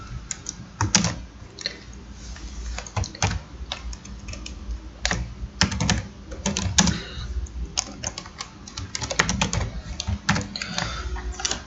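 Rapid, steady clicking of computer keyboard keys as Java code is typed, dense and close-up with irregular bursts and brief pauses, no voices.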